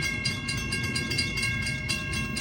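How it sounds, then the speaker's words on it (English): Amtrak Capitol Corridor train 724 rolling past the 105th Avenue railroad crossing in Oakland, a steady near rumble with rhythmic wheel clatter and crossing bells ringing over it. "Here comes Amtrak Capital Corridor Train 724."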